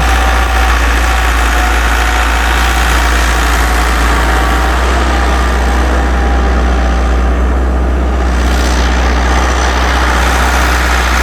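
A Massey Ferguson MF385 tractor engine idles loudly and steadily while giving off a lot of smoke, a constant low rumble that never changes throughout.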